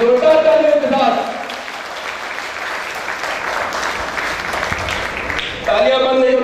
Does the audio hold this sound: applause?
yes